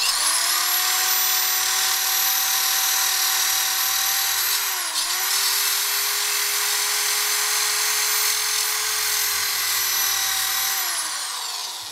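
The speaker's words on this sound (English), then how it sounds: "They're sandpaper discs. They screw onto this mandrel." Sandpaper disc spinning on a drill-driven mandrel, grinding painted letters off a Yamaha R1 front wheel: a steady high-pitched whine held for about ten seconds, with a brief dip near the middle, loud and close.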